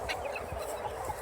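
Chickens clucking nearby in short, busy calls over a steady background hiss.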